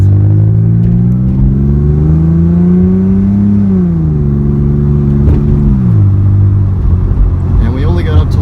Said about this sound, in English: Listen to that exhaust.